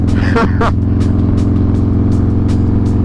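A Harley-Davidson Street Glide with the big 128 engine rumbles steadily and loudly as it is ridden through curves. The low engine drone runs throughout, and a rider's voice talks over it.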